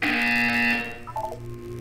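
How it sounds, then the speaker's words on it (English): In the Portal 2 game, a harsh electronic buzzer blares once for under a second, loud and steady, then cuts off into quieter ambient hum. "When you hear the buzzer, look up at the ceiling."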